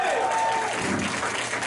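An audience claps together in a brief, dense burst of applause that fills the room and holds steady, with no talking over it.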